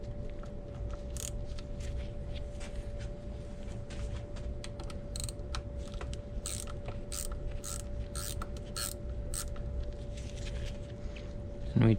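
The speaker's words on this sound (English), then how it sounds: "this flange we have 2BA nuts. Let me get a proper socket for that." A socket wrench ratchets off 2BA nuts from a flange on a steering box, giving a long run of close, irregular clicking with pauses over a steady low hum.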